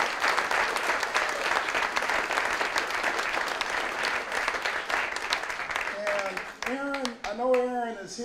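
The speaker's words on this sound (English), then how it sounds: "let's give a round of applause to the Regional Arts Commission for opening up and helping host us today" An audience at a St. Louis poetry event applauds for the Regional Arts Commission, a dense sustained clapping from a full room that thins out near the end as a voice begins speaking over it.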